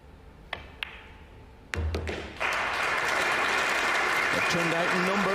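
At a 2024 World Pool Masters quarter final in Germany, a few sharp clicks of pool balls lead into a crowd bursting into loud, sustained applause and cheering, with a voice speaking over it near the end.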